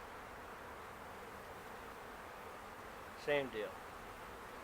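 Honeybees buzz and fly up after a hive frame is shaken, a faint continuous drone with a brief closer buzz passing near, and a voice speaks briefly over it.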